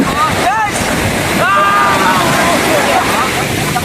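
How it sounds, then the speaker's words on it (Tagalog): Strong ocean surf roars continuously alongside buffeting wind at a beach in Tangalan, Aklan, with faint voices calling out in the background. "ang lakas ng alon ngayon"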